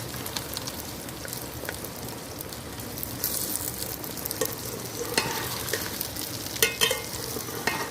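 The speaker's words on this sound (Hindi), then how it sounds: "अब मैं भिंडी को अच्छी तरह फ्राई कर लूँगी" Okra (bhindi) fries in about two cups of hot oil with a steady crackling sizzle, broken by occasional sharper pops and the scrape of stirring, with no voices.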